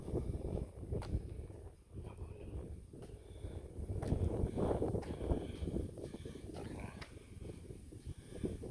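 Strong wind gusts by a mango tree along a bypass road on a rainy day, buffeting the microphone in uneven, rumbling surges that swell and ease throughout, with sharp knocks and rustles scattered among them.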